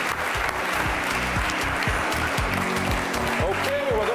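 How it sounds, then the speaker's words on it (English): Applause from a studio audience on a televised quiz show, steady and sustained throughout, mixed with underlying music and background sound. "Let's give them a round of applause."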